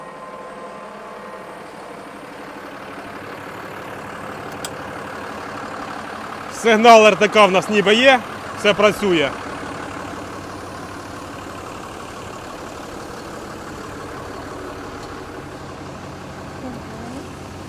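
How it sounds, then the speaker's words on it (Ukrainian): A tractor engine idles steadily from inside the cab, a continuous low drone throughout, with a short stretch of nearby conversation partway through. "переміщаємося в кабіну трактора, дружина за кермом"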